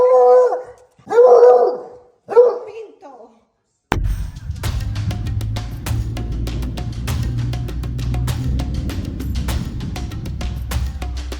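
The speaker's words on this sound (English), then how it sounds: "a hunting dog defended its family's home from an alligator" A hunting dog in Florida defending its family's home from an alligator: three loud howling barks close by, then a dense stretch of clattering outdoor noise with a low rumble.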